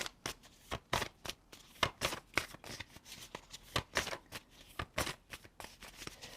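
Tarot cards being shuffled by hand during a weekend zodiac reading, a close, steady run of crisp riffling slaps and flutters repeating about twice a second with no talk.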